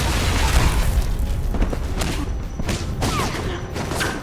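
Heavy grenade explosions and dense bursts of gunfire in the video game Alpha Protocol, loud and continuous, booming low rumble under sharp cracking shots.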